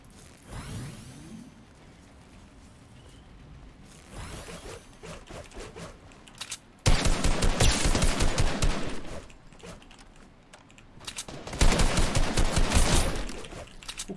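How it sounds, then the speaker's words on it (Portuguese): Fortnite gunfire rattles in two long, loud automatic bursts with quieter mechanical clicks and shuffling before and between them, no speech. "Mano, o cara tá de lado pra mim e eu tô tomando tiro dele."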